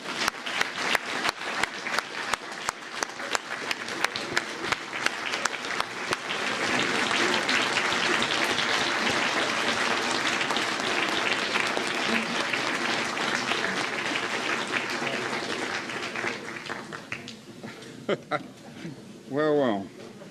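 A large lecture audience bursts into sustained applause and cheering to welcome a speaker, the clapping steady and dense for most of the stretch before fading, with a voice starting to talk near the end.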